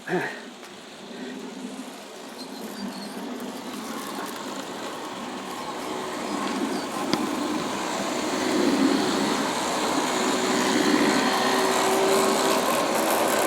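ALCO PA and Aristo-Craft E9 model trains run around a track loop with a continuous motor whir and rolling rumble that slowly swells, steady and fairly close.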